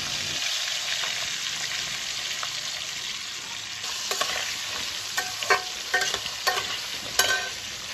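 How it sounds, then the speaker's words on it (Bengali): Diced potatoes frying in hot oil with turmeric, a steady bright sizzle throughout, with sharper spatter pops and stirring clicks growing busier toward the end. "আলুগুলোকে ফার্স্টে আমি লাল করে ভেজে নিচ্ছি"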